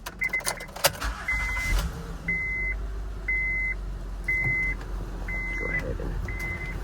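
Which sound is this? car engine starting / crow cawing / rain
car engine starting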